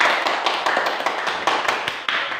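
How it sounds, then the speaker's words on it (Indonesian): Students applauding in a classroom, a steady patter of many hands clapping at close range with no voices over it. "Tepuk tangan untuk semua"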